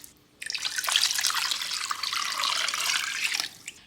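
Tap water runs steadily into a cooking pot holding chicken breast, a close, continuous splashing hiss lasting about three seconds before it stops. No one speaks.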